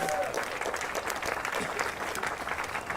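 An outdoor crowd at a Cleveland riverside ship ceremony applauds the city's fire division, with steady, dense clapping close by and voices mixed in underneath.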